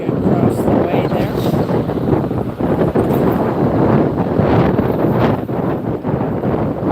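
Gusty wind buffets the microphone loudly and continuously on a breezy day at Las Vegas airport, rising and falling in strong rushes with no clear pauses.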